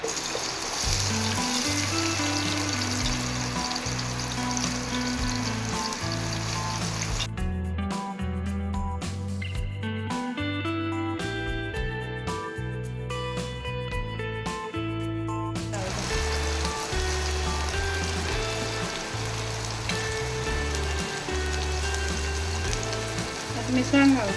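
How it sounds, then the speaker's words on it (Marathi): Onions frying in hot oil for a prawn chilli gravy, a steady close sizzle and crackle running throughout under loud background music. "तेल तापत दवरला आतां हांव पियाव घालता"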